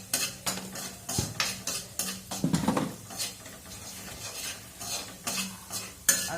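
Coriander powder and chili powder being stirred into a cooking pan with a spoon, with a series of scraping, clinking strokes over a soft sizzle, close and fairly quiet, with no talking.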